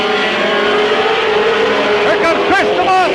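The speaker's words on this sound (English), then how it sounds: "3 abreast racing here at Mid-Vid Speedway." Race cars roaring around Midvale Speedway in a 1995 three-abreast battle, a loud continuous engine drone with pitch rising and falling as cars pass close by, under crowd and track-announcer noise.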